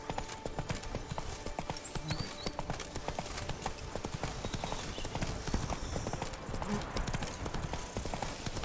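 Roach, a horse in the video game Witcher 3, trots with a steady, even clip-clop of hooves over a continuous background of ambient noise.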